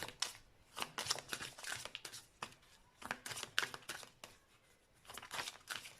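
Tarot cards are shuffled for a love reading, giving repeated soft riffling, rustling bursts close by with brief pauses between them and no talk.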